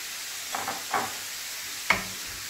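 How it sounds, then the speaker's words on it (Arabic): Onion frying in a pan with salt and pepper sizzles softly while a spoon stirs it, with a few quick scraping strokes over the low steady hiss. "نصامر هكا حتى تعسل ليا البصله ديالتي"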